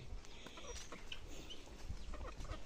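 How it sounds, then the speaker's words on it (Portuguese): Chickens resting in the shade of cashew trees on a farm at midday give soft, scattered clucks, low and somewhat distant, over a constant outdoor background hum without talk. "Quando dá meio-dia, as galinhas estão tudo aqui debaixo deitado"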